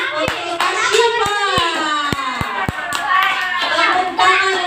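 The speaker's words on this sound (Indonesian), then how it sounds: "Tepuk tangan dulu untuk Hafiz" Young children at a kindergarten quiz competition clap their hands together in bursts of sharp, near claps, with children's voices chattering over the rhythmic clapping throughout.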